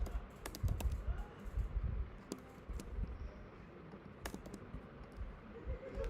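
Keys clatter on a computer keyboard as someone types code: soft, irregular keystrokes at close range with a few sharper clicks and short pauses between bursts.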